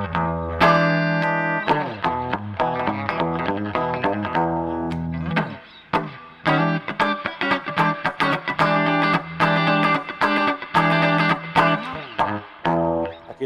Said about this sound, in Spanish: vamos al canal limpio.